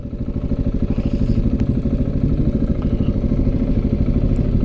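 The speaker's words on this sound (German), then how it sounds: "Wenn der runterschaltet, der Auspuff." Loud, throaty Audi R8 exhaust burbling and crackling steadily on downshifts, a deep pulsing rumble close by with a few faint clicks above it.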